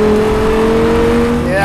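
A steady, droning engine note from a second-generation Audi R8 underway, loud and close with a faint voice in the background.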